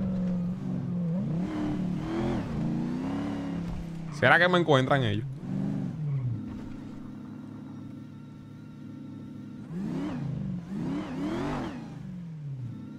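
A car engine revs and surges in the video game GTA V during role-play, its rising and falling drone rolling in a few bursts beneath near-constant talking.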